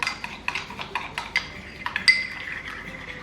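Spoon scraping and clinking against a bowl while honey mustard mayo sauce is mixed, a quick run of light taps and clinks, close and fairly quiet.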